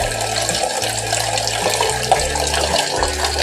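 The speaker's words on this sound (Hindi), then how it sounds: "पानी की आवाज़ आ रही है।" Tap water runs steadily into a kitchen vessel while tea is being made, a loud, close, continuous gushing stream with a low, wavering hum beneath it.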